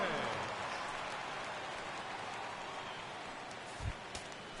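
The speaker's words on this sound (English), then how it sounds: "the rain continues to fall here" Steady rain hisses down on the ballpark field in MLB The Show 16 during a Brewers–Cardinals game, a broadband wash throughout with a couple of brief thumps near the end.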